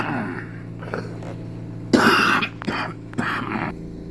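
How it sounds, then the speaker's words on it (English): A person coughs and clears their throat in a short fit, with bursts near the middle and a couple of follow-up coughs after a quieter start, close and fairly loud. "Sorry about that, boys. I had a coughing fit."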